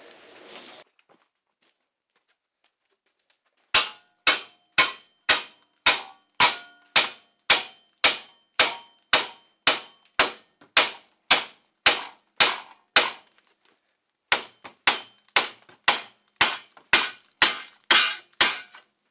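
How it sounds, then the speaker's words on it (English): After a quiet start, a hammer strikes metal in a steady run of sharp, ringing blows on a front wheel bearing of a Chevrolet Malibu, pausing briefly before continuing at the same even rhythm. "If things don't move, get a bigger hammer."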